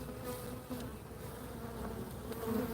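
A honeybee colony hums steadily inside an open hive as brood frames are handled, a dense, continuous, close buzz that stays level throughout with no speech.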